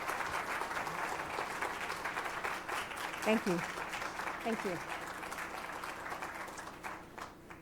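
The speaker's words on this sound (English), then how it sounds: "So everyone, Very please kind. give a round of applause to these folks." Audience applause at a university social policy lecture, a steady wash of clapping throughout, with a speaker talking over it near the microphone.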